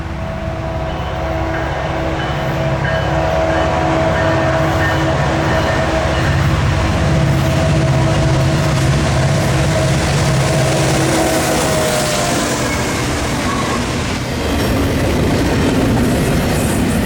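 Norfolk Southern ACE locomotive NS 1000, the vandalized 'Spirit of France' unit, leads a train rolling past with loud, steady rumble and rail noise that holds for the whole stretch.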